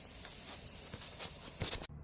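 Lawn sprinklers spray water in a steady, close hissing rush with a few brief bursts before cutting out near the end.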